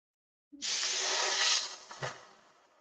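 A spray gun hisses steadily as it applies paint to a Viper, a close, loud sustained burst lasting about two seconds that then tapers off, with a brief extra puff near the end.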